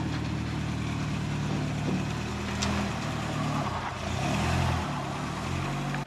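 A Group 4 Mk2 Ford Escort rally car runs steadily nearby, a continuous low engine drone with slight swells in revs, loud and alone throughout.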